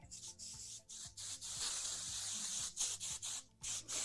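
Repeated short hissing bursts of an aerosol texture hairspray, sprayed in quick pulses close to the microphone, with a quiet background hum and no talking.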